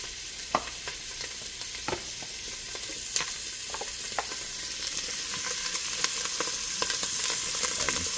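Green beans frying in a pan on turned-down heat, a steady close sizzle with scattered crackles and pops throughout, no talking.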